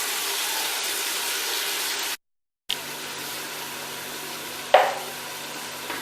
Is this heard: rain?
no